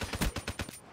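Rapid automatic gunfire in the video game Black Ops 3, a quick burst of about six evenly spaced shots in under a second, fairly loud and close.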